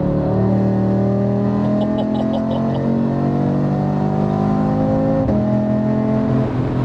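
A tuned 520 bhp Audi RS3 8Y with OPF delete and downpipe revs its five-cylinder engine in a loud, sustained, rising and falling drone that stays close throughout, with a word or two of speech briefly over it.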